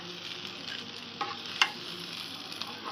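Sliced green banana fries in hot oil in a pan, with a steady close sizzling hiss broken by a few sharp scrapes and clinks from stirring.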